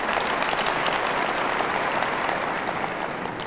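Sustained audience applause at a seminar talk, a dense, even wash of many hands clapping that continues for several seconds without voices on top.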